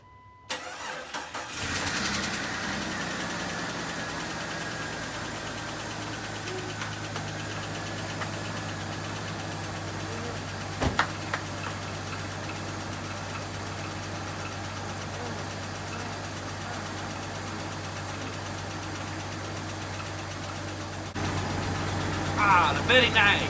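A Jeep XJ engine, just fitted with a new camshaft sensor, cranks and catches, then settles into a steady, close idle that runs for about twenty seconds with no talk over it.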